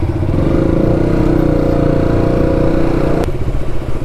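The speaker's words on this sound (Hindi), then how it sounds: "अभी हम स्टार्ट कर लेते हैं अपनी बाइक।" A motorbike engine runs close by at a steady, thumping idle with a mechanical clatter and then cuts off sharply near the end, leaving a quieter rumble.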